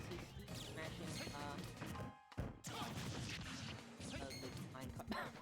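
A loud crash and whack as Steve smashes the minecart in Super Smash Bros. Ultimate, heard amid dense game effects and commentary from more than one voice.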